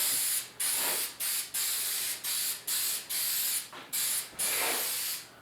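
Guide coat is sprayed from an aerosol can onto the tailgate of a 1972 Ford 4x4 pickup in short hissing bursts, about nine of them, close and loud with brief gaps between. No one speaks.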